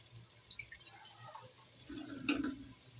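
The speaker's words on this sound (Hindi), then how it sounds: "अब हम इसी चिकन में थोड़ा सा पानी डालकर दम पे रख देंगे" Water poured into a pot of fried chicken with chickpeas during home cooking, a brief soft splashing pour rising near the end over quiet kitchen background, with no talking.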